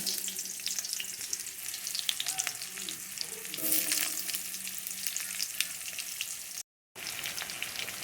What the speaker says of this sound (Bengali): এবার আমি আলুটা ভেজে নেব